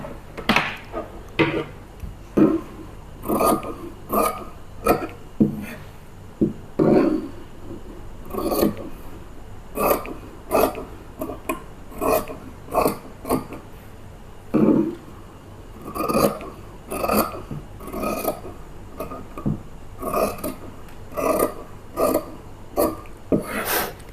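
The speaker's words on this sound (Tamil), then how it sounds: "ஸோ இப்போ இதை கட் பண்ணிக்குவோம்." Scissors cut through blouse fabric in a steady series of close, crisp snips and rustles, repeating rhythmically over about twenty seconds without any talking.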